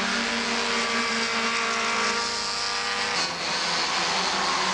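An MG Midget race car on a circuit lap, its engine a steady, loud, continuous drone with a slight shift in pitch as it passes.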